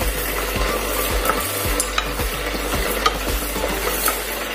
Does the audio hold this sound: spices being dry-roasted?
yes